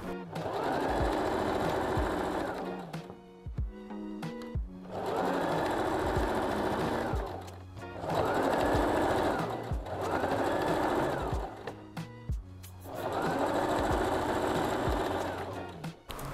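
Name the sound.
sewing machine stitching eyelet lace dress fabric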